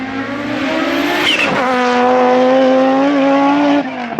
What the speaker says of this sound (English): we all know the very famous inline 5 engine sound